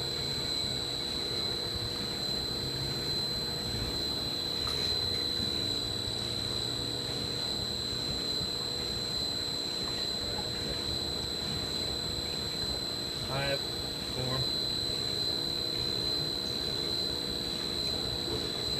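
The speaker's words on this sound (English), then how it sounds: "You can hear the pump still running right now," A Keco 900R M55 5HP pump running during a capacity test, a steady motor drone with a high whine and broad hiss that holds unchanged and loud throughout, with a brief knock partway through.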